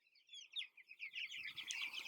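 Chickens on an urban micro farm pasture clucking and chirping in a busy, overlapping chorus that runs throughout, fairly close and moderately loud, with a faint low rustle of movement joining toward the end.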